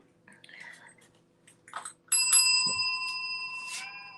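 A bicycle-style bell is rung once during a home rebounder detox class and leaves a bright, sustained metallic ring that slowly fades. Soft voice and rustling sounds come just before it.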